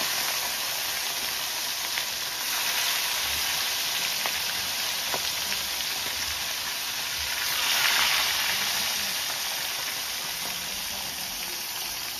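Fish heads frying in plenty of hot oil in a home kitchen, giving a continuous sizzle and crackle that holds steady for several seconds and swells briefly partway through.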